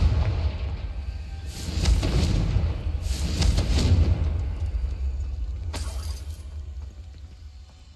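A Confringo blasting curse goes off in Hogwarts Legacy, three bursts of crackling, shattering blast over a low rumbling ambience, moderately loud and spaced a second or two apart, the last one sharper and brief.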